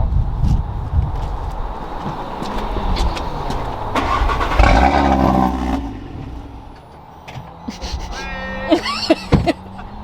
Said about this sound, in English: Most important bit is the first cold start.